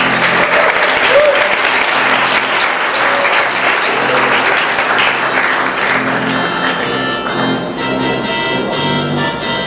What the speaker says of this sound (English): And for the Rhapsodies of Dance Performance, we cheer Miguel Enrique S. Roa.